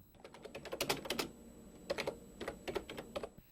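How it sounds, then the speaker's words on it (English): Quick bursts of keystrokes on a computer keyboard arrive in uneven clusters with short pauses, close and crisp, with no talking. "An operator used to communicate with a computer like this, using a keyboard."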